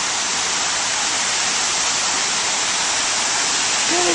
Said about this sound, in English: It's part of these fountains over here.